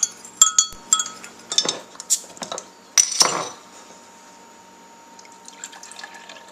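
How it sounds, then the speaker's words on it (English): A spoon clinks and scrapes against a pot while stirring a homebrew wine mixture until it dissolves, several quick metallic taps and swirls of liquid up close, then a quieter stretch. "Just want to stir this till this dissolves, and then I'll let it cool off."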